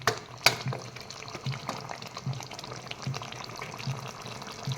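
Beetroot and chicken are stirred and turned in a frying pan with a little water, a quiet wet scraping and bubbling with a sharp knock at the start and a faint regular low thump throughout.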